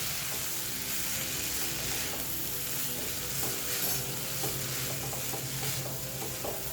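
Prepared soya chunks and rice are stirred together in a pan for fried rice, a continuous dense sizzle with scraping stirs running under it, close and even throughout.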